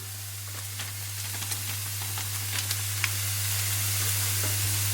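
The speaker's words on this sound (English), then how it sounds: "and keep stirring" Black pepper, chili and other spices stirred in a frying pan for a green bean and wild mushroom casserole, a steady soft sizzle with light scattered scraping taps over a constant low hum, no talk.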